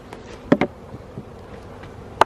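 Honeybees around a strong hive during a late-afternoon nuc transfer, with a faint insect hum under a few sharp knocks and clicks of equipment nearby. No voices.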